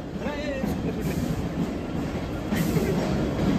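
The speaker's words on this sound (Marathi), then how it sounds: "एकाच ट्रॅकवर 2 ट्रेन आहेत." Trains rumble along a railway track near Thane–Mumbai, a continuous heavy rolling noise with faint squeals, while a voice talks over it close by.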